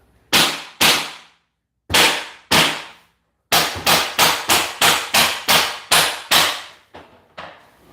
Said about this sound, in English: You need to break a little hole in the lower wall, turn it around.